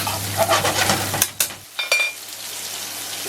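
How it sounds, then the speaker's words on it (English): Garlic and bacon sizzle and crackle in hot oil, with a couple of sharp clatters of a utensil in the pan before the sizzle quiets. "Now we have, when it's frying"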